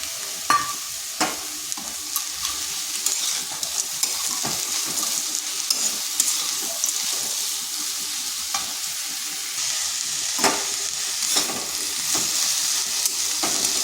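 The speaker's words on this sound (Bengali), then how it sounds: "শাকগুলো ভালোভাবে মিশিয়ে নিচ্ছি। আর দিয়ে দিচ্ছি ভেজে রাখা বড়িগুলো।" Drumstick leaves and fried lentil dumplings (bori) being stir-fried in a pan give a steady close sizzle, with scraping stirs and occasional sharp clicks throughout and no voices.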